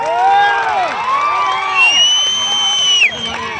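A crowd at an NDA alliance road show in Yerraguntla, Kadapa, cheers loudly, with overlapping shouts, whoops and rising and falling calls from many voices close by.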